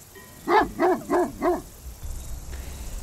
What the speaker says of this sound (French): Donc c'est des chiens qui sont très aboyeurs.